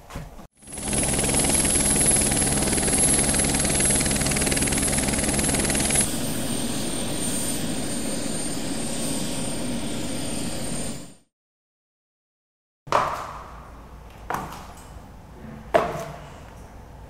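A helicopter's loud, steady rotor and engine roar runs for about ten seconds as it arrives, then cuts off abruptly into silence, followed by a few brief, sharp sounds.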